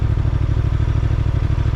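Honda Transalp 750 motorcycle engine running at very low speed with no clutch use, a loud, close, steady rhythmic low thumping pulse that continues evenly throughout, with no talk.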